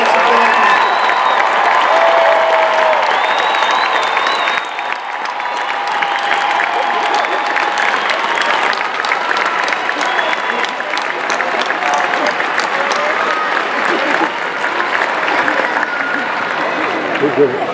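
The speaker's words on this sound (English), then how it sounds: "Please rise so that we can applaud you for your accomplishment." A large crowd at a University of Cincinnati class of 2017 commencement applauds the graduates, a loud, sustained roar of clapping with cheers and voices mixed in throughout.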